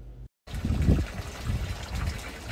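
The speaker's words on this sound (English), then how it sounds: "This gets any excess water out of the boat." A boat's bilge pump pushing excess water overboard, heard as a steady, close trickling and splashing flow after a short silent gap, with no talking.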